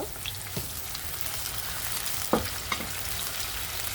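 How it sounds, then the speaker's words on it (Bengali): Chopped garlic fries in hot mustard oil in a wok, making a dense, even crackling sizzle up close, with a couple of sharp stirring knocks and no speech. "আমি আগে রসুন রসুন কুচিটা দিয়ে দিব দিয়ে ভালোভাবে একটু ভেজে নিব"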